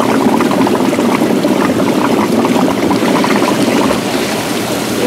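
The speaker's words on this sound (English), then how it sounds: "this is with the pumps on and the blower" Hot tub pumps and a newly replaced blower on a Morgan Spa running together, producing a loud, constant rush of churning, bubbling water close by, steady throughout with no pauses.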